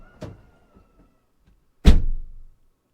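A car door opens with a light click, then after a pause slams shut with a loud, close thud that rings briefly.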